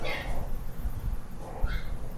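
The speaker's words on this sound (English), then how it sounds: "The neighbor's dogs are fighting." Neighbor's dogs fighting, with muffled barks and yelps heard from a distance through a house, brief scattered outbursts over background noise and no speech.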